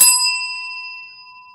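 A single bright ding from a small bell, struck once and left to ring out in a clear sustained tone that slowly fades.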